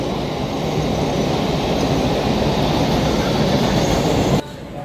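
An AC suburban train rumbles steadily past close by in Dadar, a continuous loud roar of wheels on rails that cuts off abruptly near the end.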